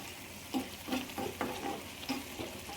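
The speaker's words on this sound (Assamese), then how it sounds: "মাছখিনি মই অকণমান লুটিয়াই বগৰাই দিলোঁ" Fish pieces are stirred and turned in a frying pan, with about five quiet scraping strokes over a soft, steady sizzle of frying.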